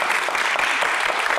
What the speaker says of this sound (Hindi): इस पे तालियां बनती हैं